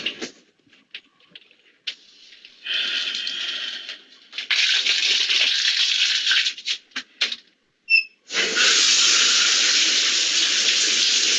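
Shower water hisses on and off in bursts during a film's shower murder scene, with abrupt cuts between loud spraying and near silence.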